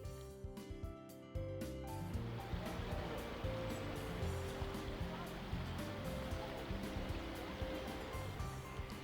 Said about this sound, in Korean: 졸졸졸 흐르는 물줄기에 귀가 즐거워지는 전주 천변을 걷습니다